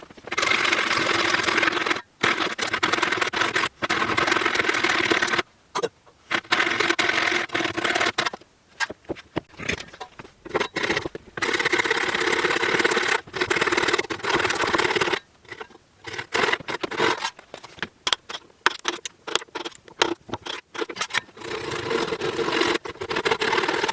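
A wooden beam is sawn by hand with a handsaw during house building, heard as a steady, close, scratchy rasp with brief pauses between bursts of strokes.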